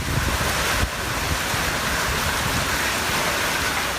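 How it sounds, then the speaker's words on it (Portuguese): Loud, roaring wind from a storm in São José dos Campos buffets the microphone in a continuous rushing wash, with no voices. "nós recebemos vídeos da ventania."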